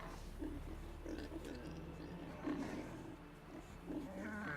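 A pig in the video game The Witcher 3 gives repeated low grunts and snuffles, short rhythmic bursts close by against a faint background ambience.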